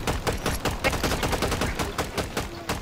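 Rapid gunfire in the video game Fortnite, a steady stream of sharp, loud automatic shots repeating without pause.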